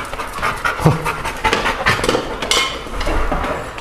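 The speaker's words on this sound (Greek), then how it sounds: "Επίθεση σκύλου." A dog pants close by, quick rough breaths repeating in an uneven rhythm, with a few clinks and knocks around it and no talk.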